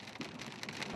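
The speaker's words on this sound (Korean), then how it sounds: "갑자기 우박까지 쏟아진다." Hail pours down on a narrow, dangerous mountain road in the Andean highlands, a dense, steady patter of many small impacts with no voices.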